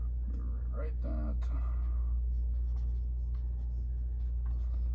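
Pen writing on paper during an engineering lecture, a soft scratching of strokes over a steady low room hum, with brief faint speech near the start.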